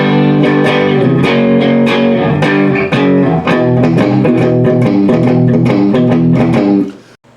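Electric guitar plays the E lick of a song, a loud, close run of quick picked notes with a distorted tone over a ringing low root, stopping abruptly near the end with no voices.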